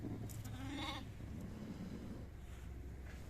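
A sheep with a lamb gives a short, faint bleat at a livestock sale, heard once early and then fading into low background noise.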